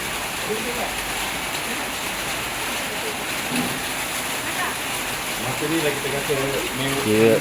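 Steady rain hisses outside at a family campsite with a constant wash of noise, while a voice talks over it and faint clatter comes and goes.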